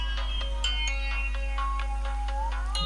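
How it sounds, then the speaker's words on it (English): Music plays steadily from the rear speaker of an Asus ZenFone 2 ZE551ML, with tonal, ringtone-like notes recurring in an even rhythm over a constant low hum, close and without talk. "let's play a song on here. As you can see, it is really loud"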